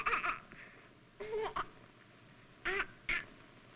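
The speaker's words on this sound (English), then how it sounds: "That's a seagull." A seagull's call in a 1946 film scene rings out in four short, harsh squawking bursts, two pairs separated by quiet pauses, over a faint background hiss.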